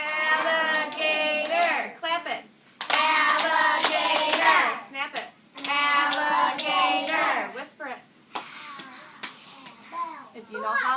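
Young children in an elementary classroom chant a word in unison and clap out its syllables, rhythmic hand claps mixed with their voices and breaks of quiet between repetitions.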